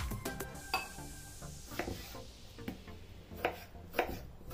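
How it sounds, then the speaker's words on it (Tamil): A knife slices tomatoes on a board for tiffin sambar, with quiet, irregular, sharp cutting taps spaced through the stretch and no talking. "இப்போ நெக்ஸ்ட்டு வந்து நம்ம தக்காளியை ஸ்லைஸ் பண்ணிக்கலாம்"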